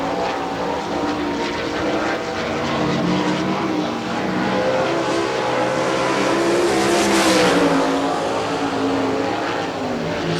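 A sprint car roars around a dirt oval during qualifying at an All Star Circuit of Champions Ohio Speedweek race in Hartford, Ohio, its engine a loud continuous drone that swells and fades as it laps, with no talk.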